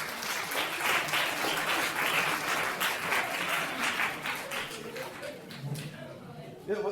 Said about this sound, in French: On peut l'applaudir si vous voulez.